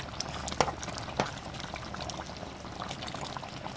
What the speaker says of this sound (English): And I add about 2 tablespoons of ketchup. So I add my ketchup.